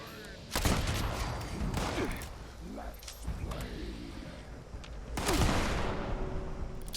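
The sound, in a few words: gunfire from handmade rifle in Fallout 76 video game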